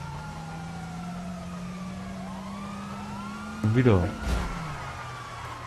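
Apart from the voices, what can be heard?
police car sirens chasing in video game GTA Online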